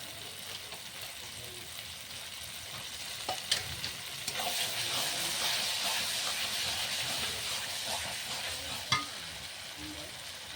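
Boiled peas are added to spices frying in oil for ghugni, a sustained sizzle with soft hiss, a few sharp clinks of a spoon or pan partway through and a steady stir, with no talking.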